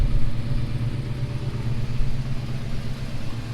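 A 6.7-liter diesel engine in a 2013 Ford F-350 Platinum truck runs at a steady idle, with a low, even rumble that holds close and moderately loud throughout.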